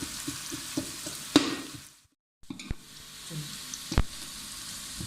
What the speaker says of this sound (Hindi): अब इस प्याज को हमने लाइट ब्राउन करना है।